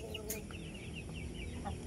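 Black Shamo gamefowl hen clucking nearby, a series of short repeated clucks over farmyard background noise.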